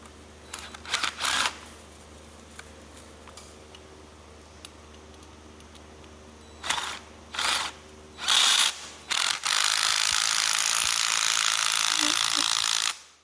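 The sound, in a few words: tightening the Giftbox Arch bow brackets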